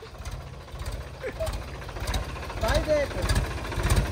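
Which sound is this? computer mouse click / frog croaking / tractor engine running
tractor engine running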